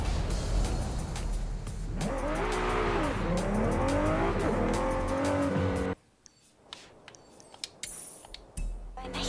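Car driven in the open-world racing game Forza Horizon 5: a loud, sustained engine roar rising and falling through gear changes with tire squeal, then cutting abruptly to a quieter stretch of faint road and ambient game sounds.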